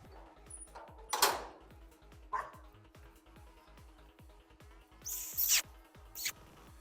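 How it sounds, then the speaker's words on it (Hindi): Young puppies whine and yelp in faint, scattered high-pitched cries, with a couple of sharper squeals standing out over a low steady background hum. "सो अभी ये हमारे पिल्ले जो है"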